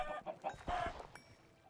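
Minecraft chickens clucking in a game world, a few soft, short clucks repeating irregularly at low level with no talking.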